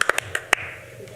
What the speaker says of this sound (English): I think we should clap for him.